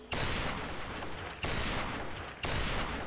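Bursts of rapid gunfire from an online shooter video game, three loud sustained volleys of automatic fire with brief breaks between them, no talking over it.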